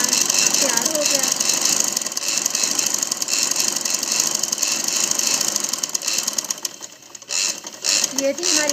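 A sewing machine stitches along the corners of a ladies' kameez, a fast, steady mechanical whirr that runs almost continuously and briefly pauses near the end, with someone talking over it.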